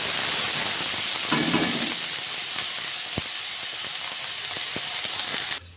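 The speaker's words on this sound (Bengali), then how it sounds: "তেলটা গরম হয়ে গেছে।" Hot oil sizzles while frying, a loud continuous hiss that stays steady throughout and cuts off abruptly at the end, with a few faint clicks and knocks underneath.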